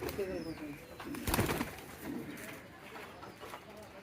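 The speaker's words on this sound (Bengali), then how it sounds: "এখানে কিং কবুতরগুলো দেখেন বাহিরে বের হয়ে গেছে" King pigeons coo softly at a pigeon seller's, with faint, low throaty calls spread through the moment and a voice murmuring quietly nearby.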